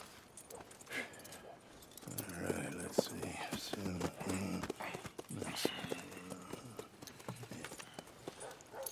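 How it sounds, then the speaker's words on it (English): Horse hooves clip-clop at an unhurried walk in the Red Dead Redemption 2 video game, steady and close, with soft voices and light jangling underneath. "And a fine new horse."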